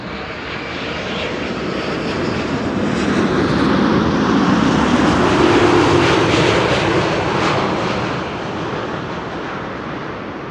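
An Air Canada jet arriving from Toronto passes over Amsterdam Schiphol, a broad engine roar that swells from a distant rumble to a loud peak midway and fades again, with no talking.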